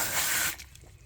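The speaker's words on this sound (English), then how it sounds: "I spray these out once a day" A brief close burst of water sprayed into chicken waterer cups, hissing for about half a second, then cutting off to a faint dripping trickle.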